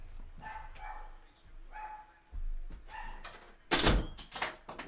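A dog barking downstairs, a few muffled barks heard at a distance, followed by louder thuds and clatter like a door moving, with faint speech in the background.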